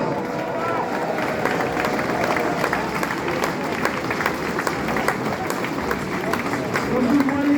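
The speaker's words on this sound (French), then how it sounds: "Je pense qu'on peut s'applaudir." Large outdoor crowd at a union rally of the Vaucluse intersyndicale applauding continuously, a dense, sustained wash of clapping with murmuring voices mixed in.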